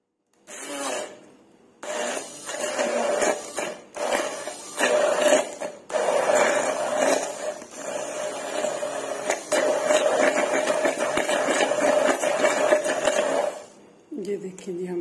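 An electric blender whirring mango into puree, a steady motor drone broken by a few brief stops and restarts, running loud for most of the stretch before cutting off near the end.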